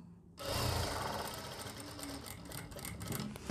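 A sewing machine runs steadily, stitching the lining of a kameez around the neckline, its close, continuous whir starting after a brief silent moment and holding through to the end.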